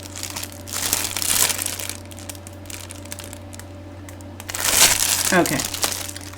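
A clear plastic fabric storage bag for quilting notions crinkles and crushes as it is handled, in two louder bursts of rustling with a voice speaking briefly over the soft background hum.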